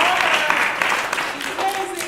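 An audience claps together in a room, a dense sustained patter of applause across the short stretch, with a voice audible partly over it.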